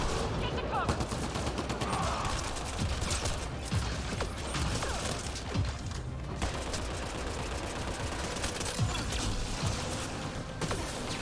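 Enemy gunfire in Mass Effect Andromeda multiplayer crackles as dense, continuous rapid shots and impacts throughout, busy and fairly loud, with some game noise mixed in.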